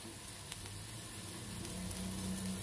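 Mackerel in seblak spice mixture with green chilies and spring onion simmering in a pan, a steady soft bubbling sizzle running continuously with no talk.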